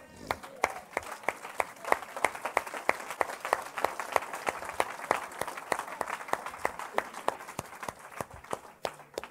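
A church congregation bursts into lively applause with dense rapid clapping, carried on with voices cheering and calling out loud and near throughout.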